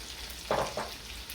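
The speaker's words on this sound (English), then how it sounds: "Now we're going to add our peppers." Peppers hit a pan of frying fava beans with sausage, giving two short, bright sizzling bursts close up over a soft background crackle.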